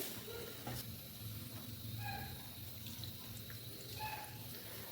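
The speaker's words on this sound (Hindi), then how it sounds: "और इसमें डालेंगे उसी प्याली से पानी, जितनी सूजी है डबल।" Water is poured from a cup into semolina for an aloo suji dish, giving a faint continuous trickling splash with a few small clinks, close and quiet.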